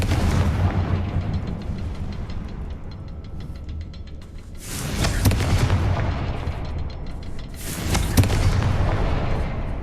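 Confringo spell explosions in Hogwarts Legacy, two loud booming blasts a few seconds apart with rumbling tails over a low continuous game background.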